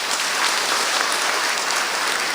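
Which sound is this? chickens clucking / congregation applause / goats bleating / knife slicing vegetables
congregation applause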